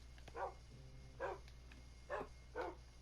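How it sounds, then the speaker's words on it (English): Pet dogs in Minecraft bark four times in an evenly spaced series, fairly close and clear over a quiet steady background hum, with no talking. "And here are all of my dogs."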